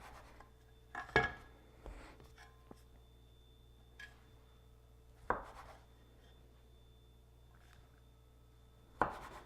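A knife cuts rolled fig, chocolate and walnut sticky bun scone dough into about twelve pieces on a board, making a few sharp, isolated thuds several seconds apart over a quiet background.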